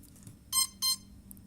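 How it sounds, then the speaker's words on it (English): Two short, high electronic beeps from a CX-20 drone's APM flight controller sound in quick succession over a faint low hum, fairly quiet. "Those 2 beeps there, and push it down."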